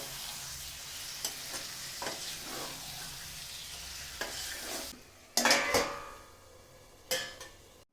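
Marinated chicken liver curry is stirred in a pan with a spoon, scraping and clattering over a sizzle. The frying drops away partway through, followed by a few sharp louder scrapes and knocks.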